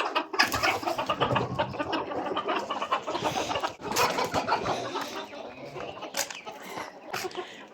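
A group of chickens cluck and squawk close by in a steady, busy chorus that runs the whole time, with no clear talk over it.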